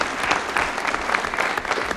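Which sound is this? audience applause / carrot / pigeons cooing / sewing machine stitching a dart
audience applause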